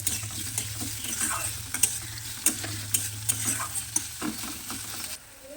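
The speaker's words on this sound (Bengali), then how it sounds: "পেঁয়াজটাও ভেজে নেব" Chopped onion sizzles in hot oil, with steady frying hiss and repeated scrapes and clacks of a spoon stirring the pan, close up.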